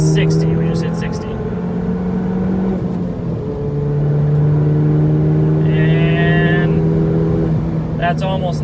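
A 2018 Ford Fiesta ST accelerating at full throttle on the road, a loud steady engine drone climbing in pitch with a shift partway through, heard from inside the cabin with voices talking over it.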